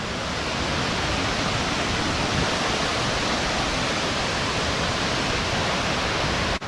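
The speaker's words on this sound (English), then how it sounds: "Here we are then, at the top of the waterfall." A large waterfall in Luang Prabang, Laos, heard from the top as a loud, steady broadband roar of rushing water that holds unbroken throughout with no voices.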